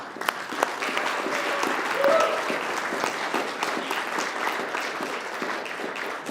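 A church congregation applauds its volunteers, from youth leaders and kitchen crew to cleaners, AV staff and greeters, with a steady, dense round of clapping that holds at an even level throughout.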